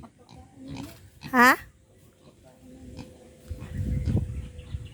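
Hungry farm pigs grunt and squeal in one loud, brief burst near the middle, with quieter rustling and low grunting toward the end, under casual speech.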